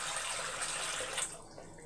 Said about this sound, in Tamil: கொஞ்சம் தண்ணி ஊற்றி அலமிக்கணும்